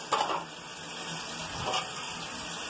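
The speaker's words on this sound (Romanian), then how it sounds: "Tăvile se vor spăla acum puțin cu puțină apă." Baking trays are rinsed with a little water: a quiet splash followed by a soft, steady trickle and run of water, close but low in level, with no talking.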